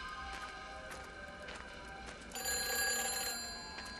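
A telephone rings in a phone box in the video game Everybody's Gone to the Rapture, a steady trilling bell tone that swells louder partway through amid a faint ambient wash, with no talking.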